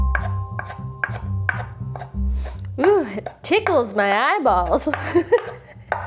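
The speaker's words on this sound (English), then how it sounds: "So let's get choppity chopping." A knife chops a pepper steadily on a board in a regular rhythm, then a person talks and giggles.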